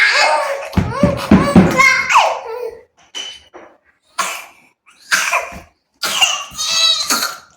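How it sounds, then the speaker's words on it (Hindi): A small child coughs in a run of harsh bursts mixed with giggling at home, the fits coming in separate clusters with brief silences between them, loud and close. "देखो खांसी हो रही है फिर भी हंसना"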